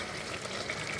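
Meat for aloo gosht sizzles and crackles steadily in a pot with gravy, a dense, continuous frying hiss heard up close with no voices.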